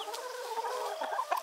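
Backyard chickens cluck and murmur in a steady, low chatter close by, with a few sharper squawk-like notes near the end and no talk over them.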